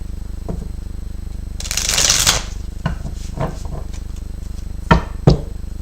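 Tarot cards being shuffled by hand, a brief riffle burst followed by several soft, irregular taps and snaps of the deck, close and fairly quiet over a steady low hum, with no talking.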